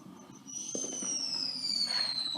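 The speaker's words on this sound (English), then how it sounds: "Now we got multiple sightings of fireworks" Fireworks from a Fourth of July celebration pop and crackle at a distance, a continuous fizzing rumble with a high whistling tone that slowly falls.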